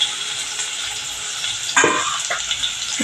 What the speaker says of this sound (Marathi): आता हा कांदा आपण छान परतून घेऊया गोल्डन होईपर्यंत